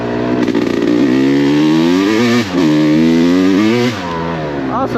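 A Yamaha YZ250X two-stroke dirt bike ridden through the woods, its loud, close, buzzy engine revving up and down in repeated surges with a brief dip as the throttle closes, and no talk over it.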